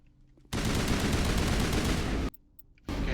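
Sustained automatic weapon fire from the video game Mass Effect pours out in a loud, continuous burst of almost two seconds, breaks off briefly, then starts again.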